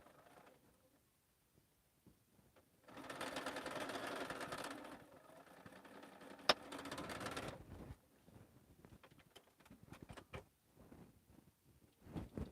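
A sewing machine runs a quilt seam in two bursts of steady whirring, each a few seconds long, quiet and close, separated by handling clicks and a sharp knock.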